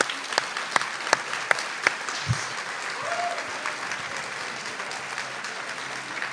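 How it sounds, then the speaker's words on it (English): A round of applause at a respiratory therapy graduation ceremony, steady crowd clapping with a few sharp nearby claps standing out at the start. "Give a round of applause, please, for Professor John Rakowski."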